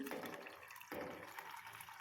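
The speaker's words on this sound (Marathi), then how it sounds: "ह्या आता सोललेल्या बिया आहेत ह्या यामध्ये मी थोडंसं पाणी ओतून" A little water poured onto peeled cowpea seeds in a pot, two short soft splashing pours heard close but faint, with no talk.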